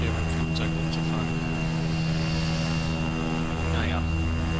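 Cessna 208B single-engine turboprop taxiing on a paved strip in the X-Plane 10 flight simulator, a steady droning engine hum with constant whine, faint voice traces over it.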